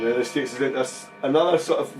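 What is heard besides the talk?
No everyday noises stand out.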